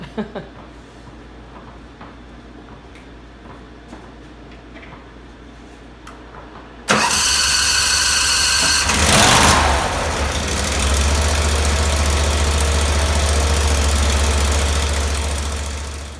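A mini snow cat's small engine fires up after quiet ambient noise and runs loudly and steadily through its exhaust, with a brief revving surge right after starting.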